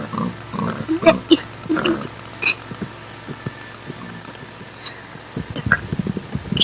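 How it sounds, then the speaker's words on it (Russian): A pig in the video game Minecraft grunts in short bursts of low snorts, first in a cluster and then again near the end, moderately close. Someone speaks briefly in between. "Ой, кто там внизу хрюкает? Неужели тут свинки есть?"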